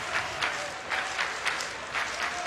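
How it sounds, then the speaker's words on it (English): College baseball fans behind the dugout at the NCAA College World Series cheer and applaud steadily, a dense wash of clapping with periodic swells, heard alone without talk. "Coastal fans behind their dugout continue to cheer very loudly."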